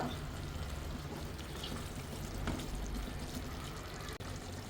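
Water poured into potato masala for poori, a steady close trickling splash that runs continuously at low level with no voices.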